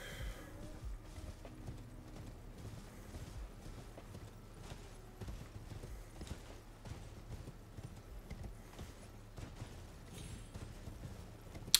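A horse gallops steadily in Elden Ring, its hoofbeats a continuous rhythmic clip-clop heard fairly faintly, with no talking over it.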